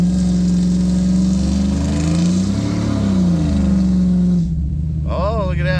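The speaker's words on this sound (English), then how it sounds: "Let's see if it'll do a little burnout here." A 2006 Chevrolet Trailblazer SS held in first gear roars at sustained high revs through a small burnout, the engine tone sweeping up and back down, then cutting sharply as the throttle drops near the end.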